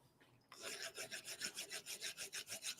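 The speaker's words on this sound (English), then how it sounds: "just grabbing a file, just like so, can take the burr off" Hand file rasping burrs off a metal edge in a shed, about a dozen steady back-and-forth strokes in an even rhythm, close and clear after a brief quiet start.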